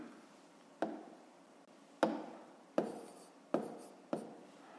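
Handwriting during a fifth-grade maths lesson, heard as five sharp, separate taps and strokes spaced irregularly over a quiet background, each dying away quickly.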